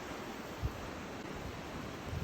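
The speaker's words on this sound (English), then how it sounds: "as you can see it's pouring down rain" Heavy rain pours steadily over a dock in Tongass National Forest in Alaska, a faint, even hiss with no breaks.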